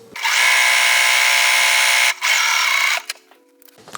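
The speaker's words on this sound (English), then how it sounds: "Now I am chain piecing these, so I'm sewing it through, butting the next one up" A sewing machine chain pieces quilt block pieces in a fast, loud continuous whir, pausing briefly, resuming, then stopping, with a few faint clicks after.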